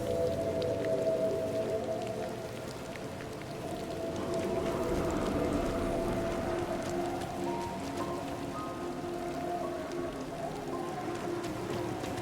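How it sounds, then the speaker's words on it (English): Heavy downpour in the video game Disney Dreamlight Valley: a dense, steady hiss of rain runs the whole time, with soft tonal background music underneath. "Whoa! Downpour."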